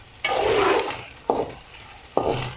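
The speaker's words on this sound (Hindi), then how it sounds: "Now I am adding some tomatoes." Tomatoes go into a pan of chicken and onions frying for a bitter gourd dish. Three loud sizzling bursts sound up close, each flaring sharply and then fading as the food is stirred.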